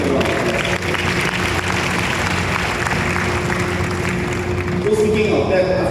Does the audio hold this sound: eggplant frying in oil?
no